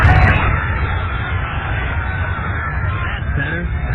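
Dense crowd murmur at Belmont Park horse racing track, a steady hubbub of many voices blending into a continuous wash with no single speaker standing out, heard as part of a radio ad.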